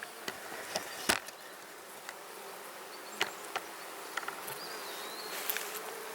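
Honey bees buzzing around beehives outdoors, a soft steady hum with occasional louder buzzes as individual bees pass close by, fairly faint overall.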